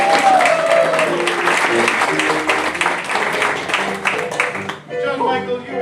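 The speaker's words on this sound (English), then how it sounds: "Can we have a round of applause for our bachelor?" Lively audience applause and cheering at an improv comedy show as the bachelor is brought on stage, with a host speaking over the clapping before it cuts off and talk continues.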